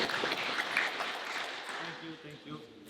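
Audience applause at a grappling seminar, a dense burst of clapping that fades toward the end while a voice talks over it.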